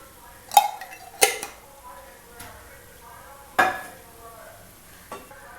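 Mint rice with lemon juice being stirred in a pan, a handful of sharp spoon scrapes and clanks against the metal at irregular intervals, with faint sizzling and quiet gaps between strokes.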